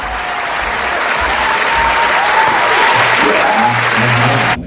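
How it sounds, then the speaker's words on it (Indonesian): Loud, steady applause from a live audience greets a guest at an evening show, dense clapping sustained evenly throughout before cutting off abruptly at the end. "Mari kita sambut dengan tepukan tangan meriah Iton Bubur."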